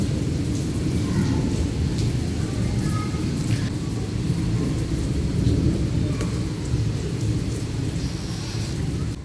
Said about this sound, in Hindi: और बारिश तो हो रही है।